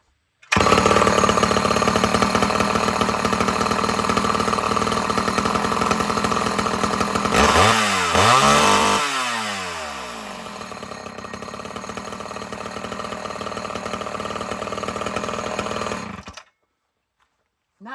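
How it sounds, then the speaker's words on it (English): A loud chainsaw, drop-started, roars close by at a steady pitch, revs up and down briefly midway, keeps running, then cuts off abruptly into silence. "you could drop start it like that with your chaps on"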